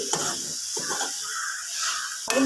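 Tomato chutney with turmeric and fenugreek powder is stirred in a pan, giving a faint, steady hiss with a few soft scraping strokes of the spoon.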